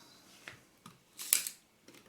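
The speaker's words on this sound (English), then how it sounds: "is it possible to cock the shutter and fire it?" The shutter of a Mamiya-Sekor C 127mm f/3.8 lens for a Mamiya RB camera is cocked and fired, giving a few quiet, crisp mechanical clicks close up, with a sharper snap near the middle.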